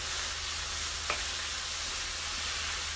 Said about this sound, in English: And then you're going to mix up the shrimp with those veggies.